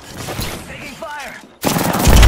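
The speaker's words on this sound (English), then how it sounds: "Taking fire!" Gunfire in an Apex Legends firefight plays first behind game voice lines, then erupts into a loud, dense burst of close shots at the end.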